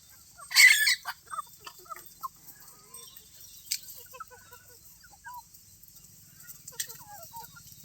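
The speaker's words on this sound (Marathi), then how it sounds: "सगळ्या बागेतनं कोंबड्या आहेत." Chickens cluck in scattered calls across an orchard while a rooster crows loudly once nearby, with sharp bird cries and faint clucks heard over a quiet background.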